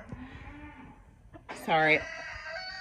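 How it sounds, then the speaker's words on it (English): Backyard chickens kept near a homemade compost pile give a loud clucking call that rises sharply near the middle, following quieter farmyard sounds, with a person speaking briefly. "all my chickens are just being very loud right now."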